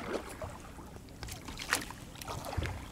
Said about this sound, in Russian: Мне, если честно, грести приятнее.